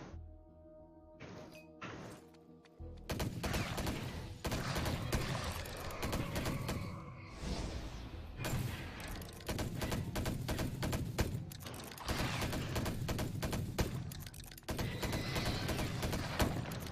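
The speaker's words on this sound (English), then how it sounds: "I'm using a leech bomb" Repeated leech bomb attacks in the action RPG Victor Vran burst out as dense, crashing impacts and explosive thuds. After a quieter opening they pile up into loud, almost continuous combat noise with steady clatter and bangs.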